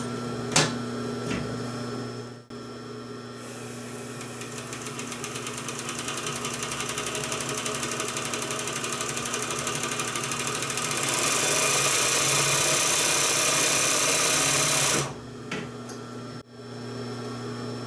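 An industrial sewing machine stitches with a domestic needle, a fast, continuous mechanical whirr that runs steadily for about twelve seconds and grows louder toward the end before stopping, close and heard without talk.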